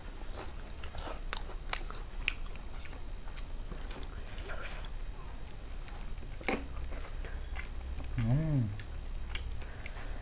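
Crunchy bites and wet chewing of mutton curry with fish pickle, close and intimate, a few sharp crunches early then softer mastication, with a brief murmured voice near the end.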